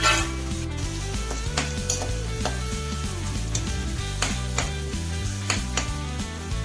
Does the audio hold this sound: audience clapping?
no